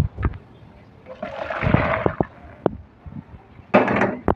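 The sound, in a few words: pouring boiled soybeans with water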